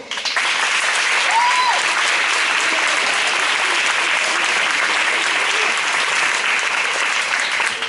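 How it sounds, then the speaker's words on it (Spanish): A school hall audience at a secondary-school graduation ceremony in Valencia claps steadily, loud, dense and sustained for about eight seconds with no break. "el aplauso es para ellos también, no es solo para mí"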